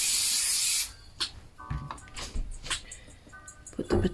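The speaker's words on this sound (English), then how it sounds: "Spray the olive oil on the plate." Olive oil sprays onto a plate in one steady hiss for under a second, close and loud, followed by faint clicks and light handling noises.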